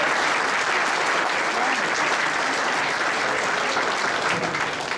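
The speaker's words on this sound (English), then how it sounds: "You can give him a round of applause." Loud, sustained applause from a banquet audience at a high school varsity football awards dinner, saluting a freshman quarterback. Dense, steady clapping fills the room throughout with no break.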